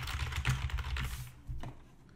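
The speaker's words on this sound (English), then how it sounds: "So watch as I type" Fast typing on a computer keyboard, a dense close patter of key clicks that stops, then a final lone keystroke.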